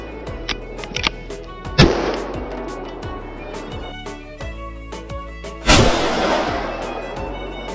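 Two rifle shots fired during a Swedish wild boar hunt, each a sharp loud crack followed by a rolling outdoor echo, several seconds apart.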